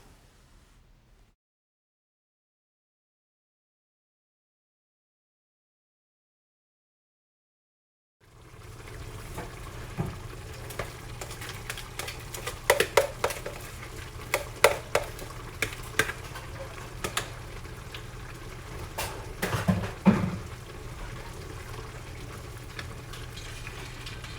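Crushed, blended okra being stirred into a stew sauce in a pot, a steady low simmering hiss with scattered scraping and clinking of the spoon, after several seconds of near silence at the start.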